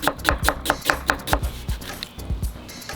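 A knife slicing an onion as thinly as possible for coleslaw, producing a quick, close run of crisp, evenly spaced chops that briefly slows and then resumes.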